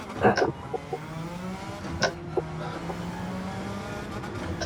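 A 981 BHP Escudo race car in Gran Turismo 7 at Sardegna, its engine holding a steady, rising high-pitched drone with gear-change dips and a couple of sharp transients, fairly close and continuous.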